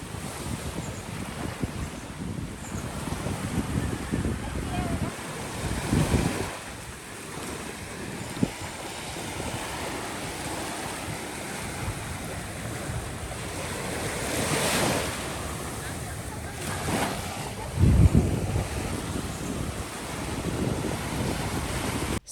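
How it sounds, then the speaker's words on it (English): Ocean waves at Panama's San Blas Islands wash onto the shore in a steady, close surf, with wind buffeting the microphone, occasional louder breakers and no talking. "so that you can see how peaceful it was and the beautiful sound of the waves"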